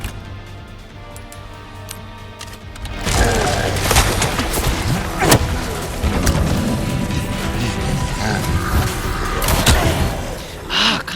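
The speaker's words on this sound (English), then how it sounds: "Here you go, have this fucking heavy grenade," Heavy grenade blast in the Resident Evil 4 remake, a loud burst at about three seconds followed by sustained crashing, gunfire and combat noise with a few sharp thuds throughout.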